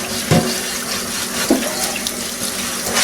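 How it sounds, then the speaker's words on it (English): Tap water runs steadily into a sink to rinse a vintage Lodge #5 cast iron skillet after oven cleaner crud removal, with a couple of clunks of the pan against the basin under the continuous splashing flow. "Let me get this rinsed down here."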